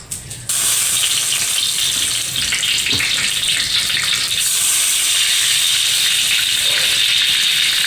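Water gushes steadily into a pot of vegetable soup with quail eggs, a loud continuous pour that starts abruptly and runs to the end.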